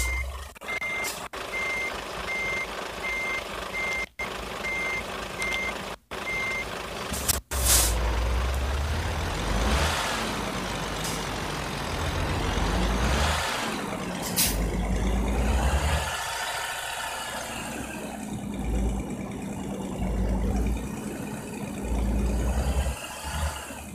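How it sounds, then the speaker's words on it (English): A truck reverses and manoeuvres with steady reversing beeps, a rumbling engine and sharp air-brake hisses, loud and close, with no talking. "I am turning the truck and the truck is just... not want to cooperate."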